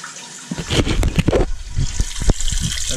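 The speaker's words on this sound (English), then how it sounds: "And slowly turn the water," Cold water gushing from a tap after an anode rod change on a hot water tank, a steady loud rushing flow that starts abruptly and continues with some clunks and splashing.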